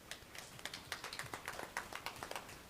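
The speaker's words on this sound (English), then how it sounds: "let's give them a round of applause" Scattered applause and clapping at a school board meeting, honoring the school marching band; uneven, moderately distant claps from a smallish audience, no talk over it.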